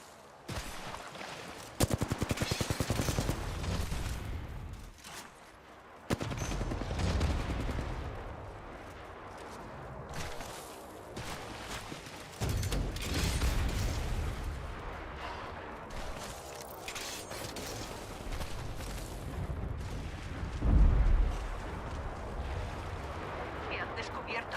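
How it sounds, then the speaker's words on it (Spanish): Gunfire bursts and explosions from a sci-fi shooter video game, loud repeated shots and blasts running through the whole stretch with a person talking over the action. "Me han descubierto. Estoy recibiendo disparos."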